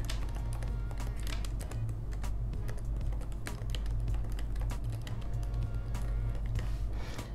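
Quick, irregular key taps come from a computer keyboard as a caption is typed, close and continuous over a low steady hum, with no voices.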